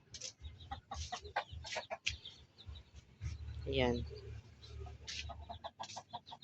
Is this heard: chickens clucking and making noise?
yes